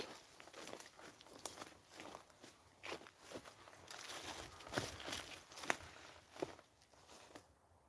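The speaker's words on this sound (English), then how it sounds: "I heard footsteps, but it's probably wildlife, to be fair." Faint footsteps crunch irregularly across ground in a graveyard at night, a scattering of soft, close steps and crackles with a few sharper scuffs against quiet surroundings.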